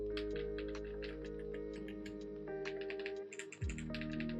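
Mechanical keyboard keys clacking close up, with deep, smooth, marble-like clicks in quick irregular bursts, some heavier thocks near the end, no talking.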